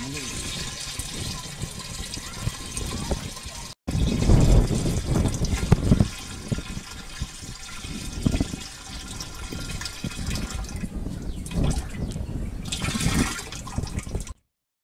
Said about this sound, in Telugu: తయారైన సొంటి పాల కషాయాన్ని 200 లీటర్ల నీటిలో కలుపుకోవాలి